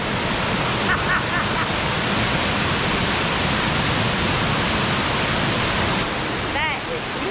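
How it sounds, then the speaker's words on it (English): A private waterfall at Los Campesinos, Costa Rica, roars as a steady, loud broadband wash that runs the whole length without a break. "This is one of the best of the waterfalls."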